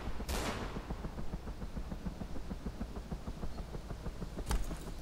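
Rapid automatic gunfire in the Arma 2 DayZ mod, a dense continuous burst of shots at moderate distance with a couple of louder, nearer reports standing out.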